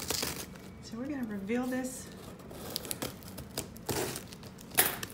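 Crinkly plastic packaging crackles and rustles close by while unboxing homeschool curriculum, with a person talking over part of it.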